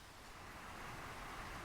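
Steady wind rushing and buffeting against a partly hand-covered microphone on the Pacific Crest Trail, a continuous broadband roar with no voices.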